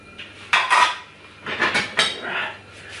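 Dishes and cutlery clatter in a few short bursts, close and fairly quiet, with brief pauses between the clinks.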